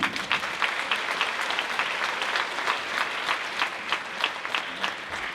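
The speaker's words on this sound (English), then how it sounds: "one more round of applause" School audience at a spring band concert gives a sustained, even round of applause, a dense patter of many hands clapping steadily for several seconds at moderate loudness, with no voices over it.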